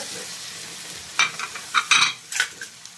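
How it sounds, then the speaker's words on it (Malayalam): Chopped capsicum sautéing in a pan for a Kottayam-style Kerala chicken curry, with a steady low sizzle and several sharp stirring scrapes and clinks bursting out toward the end, close and without talk. "അതിലേക്ക് നമ്മൾ ക്യാപ്സിക്കം, ഒരു മുഴുത്ത ക്യാപ്സിക്കം അരിഞ്ഞത് ഇടും. അതും കൂടി ഇട്ട് വഴറ്റണം"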